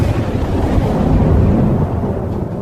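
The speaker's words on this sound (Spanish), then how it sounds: "apareció un fuerte viento y se desencadenó una gran tormenta" Strong wind and a storm over a lake, heard as a loud, steady low roar of gusting wind and rumble that holds continuously throughout with no voices.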